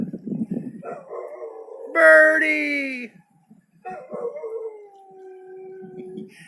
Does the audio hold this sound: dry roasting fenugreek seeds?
no